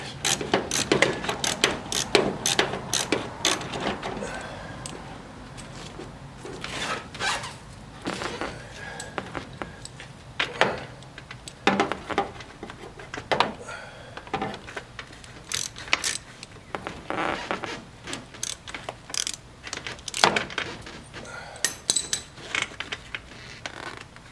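Bolts come out of a 1964 Ford Falcon front seat, close ratcheting clicks in quick repeated bursts with metallic creaks and clanks, pausing between turns.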